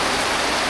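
Steady rain falling in a village on a wet day, a dense even hiss with no breaks, close and fairly loud throughout.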